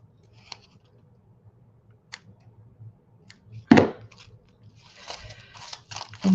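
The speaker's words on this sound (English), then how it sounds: "This one I'm going to cut in a V." Scissors cut a ribbon end into a V for a handmade junk bow. A few quiet, crisp snips come in sparse bursts, with a cluster of sharper cuts toward the end.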